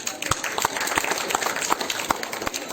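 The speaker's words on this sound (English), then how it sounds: "Please big a round of applause" At a school Independence Day program, an audience claps for a class 7 student called to the stage; sharp, distinct claps pop out over a dense bed of steady applause from a nearby crowd.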